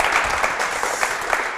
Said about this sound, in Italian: Farei un applauso a Davide.